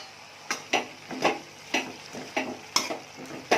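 A spoon stirs salted shredded cabbage poriyal in a pan, each scrape landing as a crisp, close stroke in an uneven rhythm of about a dozen strokes over a soft sizzle, with no voices.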